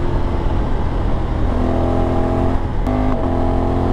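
A Honda Africa Twin 1100 adventure motorcycle accelerates with a quick shifter, its engine droning loud and close with rising pitch and a brief upshift cut near the end, no talk.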